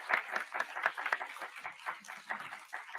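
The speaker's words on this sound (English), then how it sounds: "A big round of applause" Audience applause at a tech forum, a steady patter of many hands clapping across the room at moderate level, with no voices over it.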